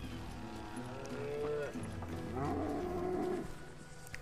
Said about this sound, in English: Bunch of cows.